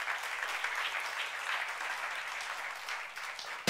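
A church youth-service congregation applauding during a sermon, steady, moderate clapping from many hands that carries on evenly throughout.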